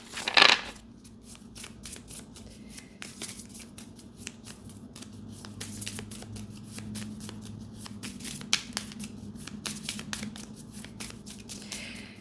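Playing cards riffled and shuffled over and over at close range, a quick burst of loud ripping riffles at the start and then a steady run of softer rustles and snaps, with no voices.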